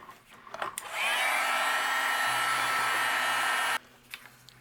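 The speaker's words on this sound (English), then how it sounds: "I'm going to use my heat gun and we'll melt this." A heat gun blows steadily for about three seconds, melting embossing powder on a stamped sentiment, a close, even airy roar that switches on and off cleanly.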